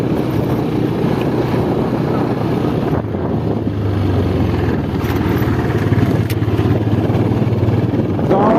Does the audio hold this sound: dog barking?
no